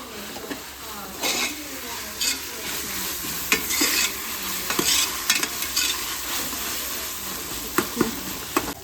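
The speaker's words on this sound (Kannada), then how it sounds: "ಇದೊಂದು ಸ್ವಲ್ಪ ಈರುಳ್ಳಿ ಬ್ರೌನಿಶ್ ಆಗಬೇಕು, ಅಲ್ಲಿವರೆಗೂ ಚೆನ್ನಾಗಿ ಫ್ರೈ ಮಾಡ್ಕೊಳ್ಳೋಣ." Onions with ginger and garlic frying in a pressure cooker, stirred with a spoon, giving a steady sizzle broken by repeated scraping strokes and clinks against the pot.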